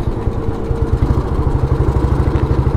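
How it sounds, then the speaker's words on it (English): A cast-iron Royal Enfield motorcycle thumps away close by, its exhaust beating in a loud, steady, rapid pulse of low pops with no voices over it. "It's always nice to ride the cast iron, especially when you hear the thumping of the exhaust."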